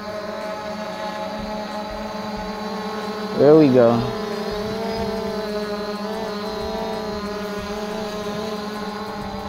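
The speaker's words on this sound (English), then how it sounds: "that's how cool I can fly this drone." Ehang GhostDrone 2.0 VR drone hovering outdoors with a steady propeller whine, a brief swell as it maneuvers, while someone talks briefly nearby.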